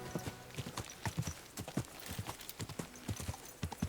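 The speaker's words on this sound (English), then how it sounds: "I was just trotting out of there with his horse." Steady clip-clop of a horse trotting in the video game Kingdom Come: Deliverance II, brisk and rhythmic, with a brief whinny mixed in and little else around it.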